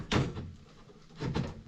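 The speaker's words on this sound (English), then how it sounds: "Will you shut that door, Jim, please?" A microwave door is pushed shut twice on a Sage 3-in-1 combi microwave, each a dull, close thunk about a second apart, with a quiet room in between.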